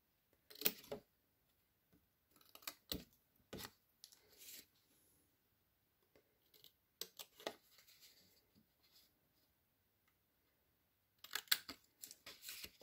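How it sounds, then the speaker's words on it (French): Scissors cutting film at the intersections, a series of crisp, close snips and rustles in short bursts separated by quiet pauses. "avec vos ciseaux, vous allez biaiser au niveau des intersections, comme ceci"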